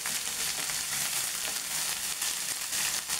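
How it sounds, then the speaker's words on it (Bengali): Onion paste frying in a pan for chicken roast, a dense continuous sizzle up close with soft stirring movements throughout. "এভাবে পেঁয়াজ বাটাটা কিছুক্ষণ কষিয়ে নিতে হবে"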